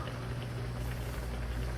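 Pork simmers in a covered pot of water, a soft, steady bubbling and gurgling that stays faint and even throughout, with no talking.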